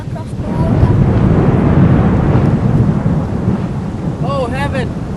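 A thunderstorm over open water, with a broad, loud low rumble of thunder and rain noise rolling throughout, and faint voices breaking in near the end.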